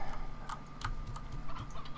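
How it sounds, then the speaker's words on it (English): A computer keyboard sits right beside the microphone, giving soft, irregular clicks and taps over a low steady hum. "I'm still sorry about the clickety of my keyboard"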